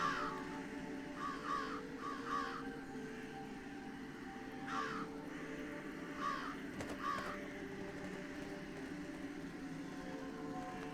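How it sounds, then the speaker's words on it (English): Crows in the video game Jenny LeClue give a series of hoarse caws in small clusters, moderately distant, over a steady low ambient hum with no one talking. "I can spook even more crows."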